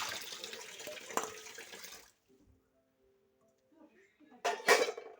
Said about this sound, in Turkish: Bunu koyduk biraz daha açıp elimi yıkayayım şimdi şöyle